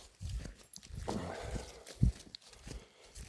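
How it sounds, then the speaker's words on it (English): A dog walks outdoors at night, making faint, soft padding and scuffing footsteps close by, with one slightly sharper thump in the middle of the quiet. "That's the dog walking. Making noise."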